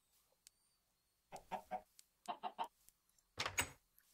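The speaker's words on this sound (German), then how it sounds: "da ist ein kleines Hühnchen" Chicken in the Minecraft video game clucking, three short bursts of quick clucks separated by quiet gaps, fairly near and clean.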